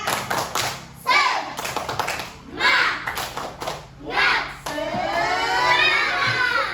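A class of schoolchildren in a classroom performs a rhythmic spirit clap: bursts of clapping in a patterned beat alternate with loud group chanting, ending in a long shouted cheer.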